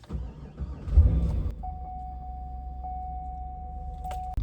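A Cadillac Escalade being started after a misfire fault was cleared: a brief crank and engine catch, then a steady low idle rumble with a thin electronic chime tone running over it.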